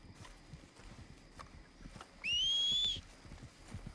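A horse in the video game Red Dead Redemption 2 clip-clops steadily, its hoofbeats running throughout, while a loud rising whistle to call it sounds partway through.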